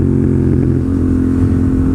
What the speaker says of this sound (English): let's go from 4th to 3rd, but actually downshifting this time.